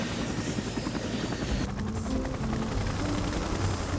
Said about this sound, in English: We can take your helicopter.